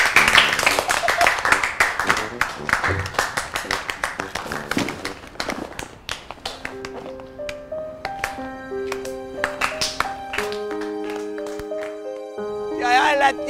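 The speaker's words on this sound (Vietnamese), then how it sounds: "tất cả cho một tràng pháo tay tạm biệt" A farewell round of applause from a group in an office scene of a Vietnamese comedy film, sharp, dense claps at the start thinning into scattered claps as tinkling music rises and takes over.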